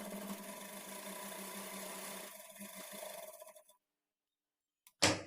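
A sewing machine stitches blouse lining fabric, running steadily with a busy mechanical whir for about three and a half seconds, then stopping into silence before a brief burst of noise at the end.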